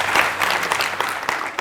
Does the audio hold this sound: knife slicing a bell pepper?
no